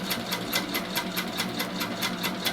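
A sewing machine doing free-motion quilting runs in a fast, steady rhythm of stitches, each needle stroke a crisp, evenly spaced tick over a continuous motor hum, close and alone with no talking.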